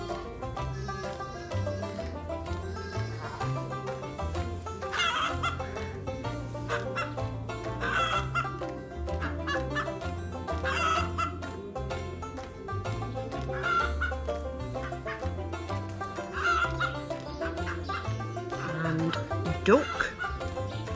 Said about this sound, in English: And then we have Turkey.